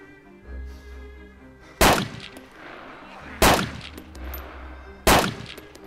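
Gunfire in the survival game DayZ: three sharp, loud single shots spaced about a second and a half apart, each ringing briefly over a low ambient background, with no one talking.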